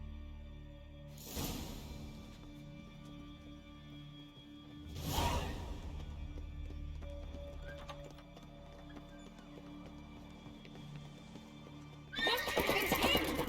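A horse in The Witcher 3: Wild Hunt neighs and snorts, with a few rushing swooshes, hoofbeats and a loud burst of galloping at the end.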